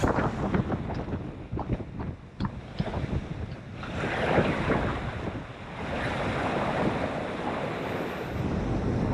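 Wind and waves while sailing a boat among the mountainous Faroe Islands, steady wash of surf and rushing water mixed with gusty wind buffeting the microphone, loud and continuous with no talk.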